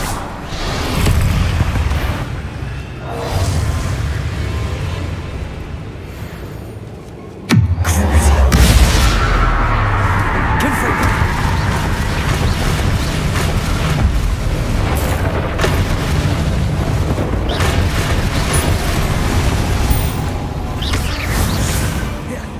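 Confringo blasting-curse explosions in Hogwarts Legacy, a loud booming burst that jolts in sharply midway and is followed by a sustained, dense roar of rumbling debris and game effects.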